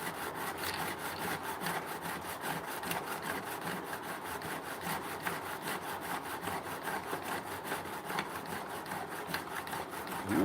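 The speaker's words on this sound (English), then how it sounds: "Let's just go ahead and finish polishing them up." Metal tools are polished by hand with 600-grit abrasive, giving a continuous close scraping and rasping with a regular back-and-forth rhythm and no voices.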